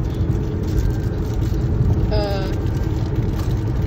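Tesla car driving in self-drive mode, a steady low road rumble and tire noise from inside the cabin, with a brief electronic tone midway.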